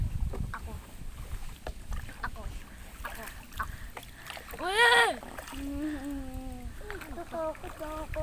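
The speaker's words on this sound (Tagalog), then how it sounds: "Sino nagsasagwan?" A rowboat is paddled across choppy water at a resort, with rhythmic splashes and water noise running beneath frequent excited talking and shouting from people on board.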